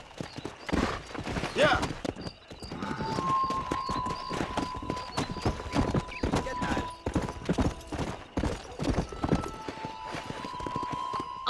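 Horse hoofbeats in the Western game Red Dead Redemption, a steady clip-clop galloping rhythm running throughout, with a brief whinny near the start and a person speaking briefly over it.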